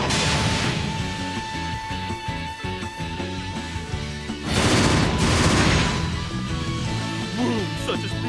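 An explosion spell goes off in Bravely Default, with a burst of booming, crackling blasts over game music, then a second heavier surge of rumbling detonation midway.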